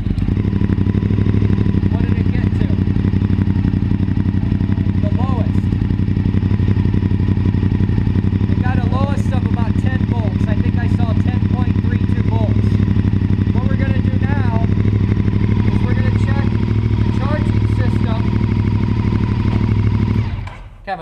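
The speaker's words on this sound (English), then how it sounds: "Kind of a noisy RC51" A Honda RC51 motorcycle engine runs steadily at idle, a loud, close, continuous rumble with some mechanical clatter that holds throughout before cutting off abruptly at the end.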